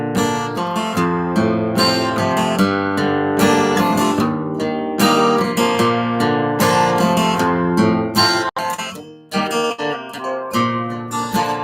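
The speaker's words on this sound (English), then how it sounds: "And here's the guitar with a pick, and it sounds something like this." A guitar played with a pick, strumming and picking chords continuously and loudly for the whole stretch, with one brief break near the end before the playing resumes.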